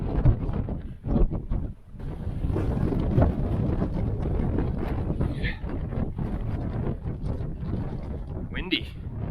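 Strong wind gusting across an exposed mountain ridge on a hike along a knife-edge trail, a steady loud roar buffeting the microphone throughout, with a voice speaking briefly beneath it.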